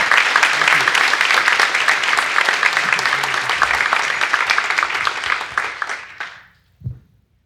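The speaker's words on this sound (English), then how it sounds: "Let's have a big round of applause for Christina." An audience at a product design talk claps for the speaker, Christina Goldschmidt, an Etsy executive, with loud, steady clapping that thins out and stops near the end, followed by a brief soft thump.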